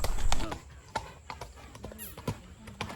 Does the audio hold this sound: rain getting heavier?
no